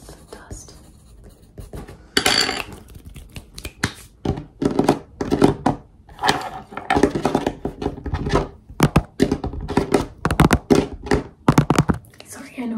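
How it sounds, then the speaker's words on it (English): Fingertips tap quickly and irregularly on a tank in a chaotic lo-fi ASMR session. The knocks and thunks are close and dry, mixed with hand rustles and soft whispering. "Sorry, I know it's rude to tap on someone's tank."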